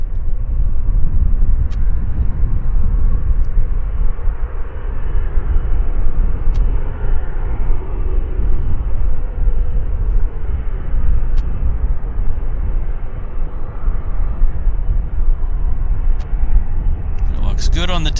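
A Eurowings Discover airliner operating for Lufthansa at Vancouver Airport, its engines producing a loud, steady, low roar that persists unbroken throughout.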